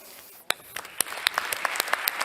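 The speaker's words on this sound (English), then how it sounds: "Please have a warm applause." An audience at a European summit breaks into applause, the clapping starting with a few claps and quickly building into dense, steady hand clapping filling the hall.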